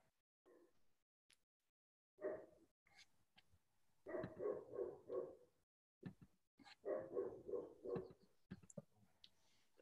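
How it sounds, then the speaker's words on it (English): Neighbors' dogs bark loudly in repeated bursts, several quick barks in each volley with short pauses between, heard clearly with no talk over them. "I just want to pet whoever's dog I hear in the background."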